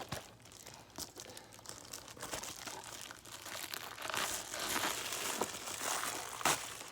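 Crinkling and tearing of a cardboard and plastic Amazon mailer as a DVD package is opened, a steady close-up rustle that grows busier toward the end, with a sharp rip near the finish.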